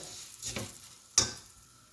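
Oil and butter melt in a hot pan while cooking kofta, giving a faint, soft sizzle with a couple of brief scraping stirs, one sharper than the other.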